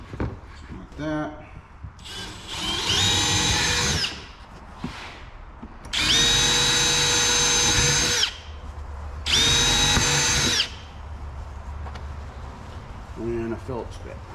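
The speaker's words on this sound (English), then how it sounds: "think we just drill one at either end." A power drill drives self-tapping screws into metal while building a shop loft, with three loud whirring bursts of a couple of seconds each, separated by quieter gaps with people talking nearby.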